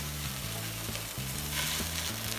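Thick potato slices frying in a pan give a steady, dense sizzle close by, with faint stirring and shifting underneath and no talking.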